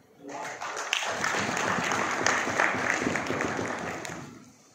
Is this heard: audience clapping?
yes